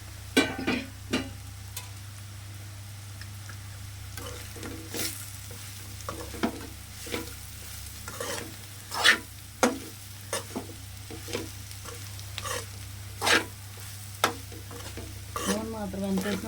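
Bitter gourd masala stirred and fried in oil in a pan, with a low steady sizzle broken by repeated sharp scraping and clinking spatula strokes; faint talk appears now and then.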